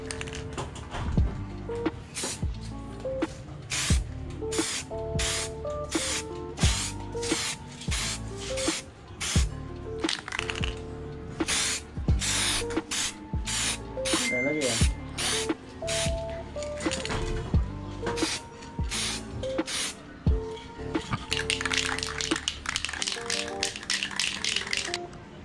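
Bursts of gold spray paint from an aerosol can hissing onto screw bolts, repeated short sprays with rattling can shakes between them, close and fairly loud, with no talk.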